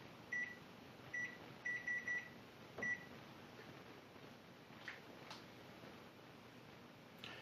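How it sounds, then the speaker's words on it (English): A kitchen timer being set for a 60-minute homebrew beer boil gives a series of short, faint electronic beeps at uneven intervals, like button presses, over a quiet room hum. "We will start our 60-minute timer"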